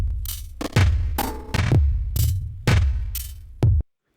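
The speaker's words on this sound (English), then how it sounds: "it almost sounds like an echo in a spacey room or a hall, something like that, like in a tunnel" Ableton Live warp mode granular time-stretch pushed to its fastest speed: about six choppy, loud bursts of sound, each trailing a short echo-like tail, repeating in an uneven rhythm before cutting off abruptly.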